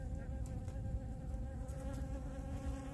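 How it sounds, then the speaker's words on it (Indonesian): A wasp buzzing near a flower on a hillside hiking trail at Fei Ngo Shan, Hong Kong, giving a quiet, continuous close drone with no talking. "Nih ada tawonnya"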